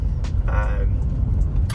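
Inside a 2007 Lexus car on the move, a steady low road and engine rumble fills the cabin, with a brief higher tone partway through.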